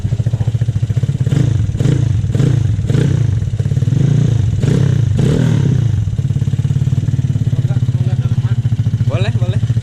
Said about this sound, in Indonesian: Boleh lah digas dikit-dikit ya.